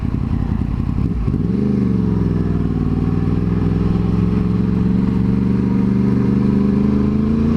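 A Yamaha R1 sport motorcycle rides along a road, its engine droning loud and steady right up close after a brief rev change near the start, a continuous mid-pitched roar with a faint clatter underneath and no talking.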